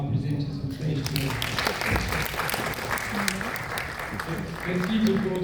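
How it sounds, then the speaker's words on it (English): Conference audience at an automotive and sustainable mobility trade fair in Algeria applauding presenters at the end of a session, a steady wash of clapping with voices talking over it, swelling slightly near the end. "a round of applause to our presenters on stage today"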